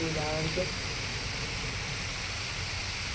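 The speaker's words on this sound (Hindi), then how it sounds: "बारिश हो रही है" Steady rain falls outdoors in a broad hiss through the whole moment, while a voice is briefly heard at the start.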